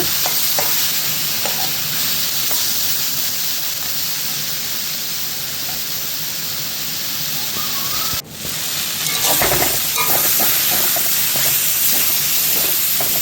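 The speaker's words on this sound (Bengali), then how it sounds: "দেখুন বন্ধুরা জলটা শুকিয়ে এসেছে, আবার নেড়ে চেড়ে দিলাম।" Leafy greens fry in a pan as water cooks off, a steady loud sizzle and hiss with scraping stirs running throughout and a sharp clatter partway through.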